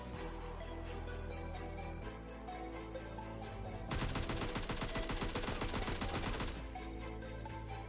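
Automatic gunfire in the video game PUBG Mobile Lite, with dense rapid bursts over steady game background sound, loudest in a sustained stretch toward the end, no voices.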